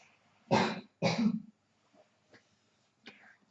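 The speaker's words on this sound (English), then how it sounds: "I have a bit of a cough" Two loud, harsh coughs in quick succession, followed by a few faint throat clears and a soft breathy noise, close up with no talking.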